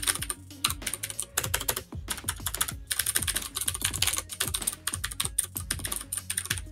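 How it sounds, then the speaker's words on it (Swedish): Typing on a Ducky mechanical keyboard fitted with blue switches: crisp, sharp clicky keystrokes in fast bursts, heard up close with short gaps between flurries. "Och så här låter den när man skriver med blå brytare."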